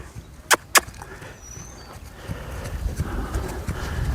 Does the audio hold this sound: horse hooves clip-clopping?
yes